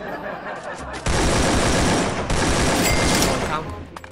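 A sustained AK-47 burst in Free Fire, loud and continuous for about three seconds, with a short break partway through, preceded and followed by quieter game sounds.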